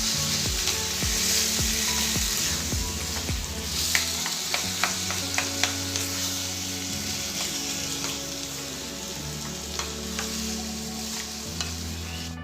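Taro greens (kochu shak) being stirred in a frying pan, a steady close sizzle with repeated scraping clicks of the spatula against the pan, with no talking.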